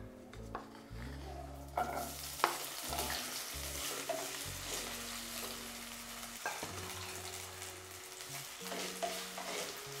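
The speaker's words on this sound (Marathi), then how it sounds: "अशा पद्धतीने बटाटा मऊ होईपर्यंत व्यवस्थित असा हा परतवून घ्यायचा आहे" Finely chopped raw potato sautés with cumin in a pan, a low continuous sizzle broken by frequent scraping stirs and light clinks of the utensil against the pan.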